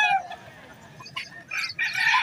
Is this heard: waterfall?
no